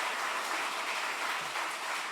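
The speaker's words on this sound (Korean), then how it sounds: "진짜 이렇게 박수 소리 원래 이렇게 하시는 건가요?" A church congregation at a Sunday afternoon service claps together in a dense, even burst of applause, steady for about two seconds, fairly quiet and without voices.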